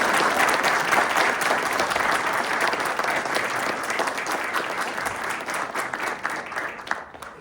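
Audience at a lodge installation ceremony claps steadily throughout, a dense, even burst of applause that tapers slightly toward the end.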